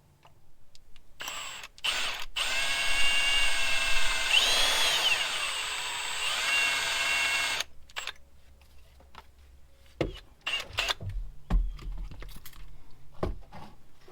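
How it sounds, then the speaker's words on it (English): A power drill bores a hole in an old red 1950s Caterpillar TraxCavator, a steady whining run of about six seconds with a slight pitch change, followed by scattered clicks and clunks of handling metal. "I'm going to drill a hole in this"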